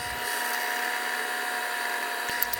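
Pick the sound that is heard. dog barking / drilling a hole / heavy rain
drilling a hole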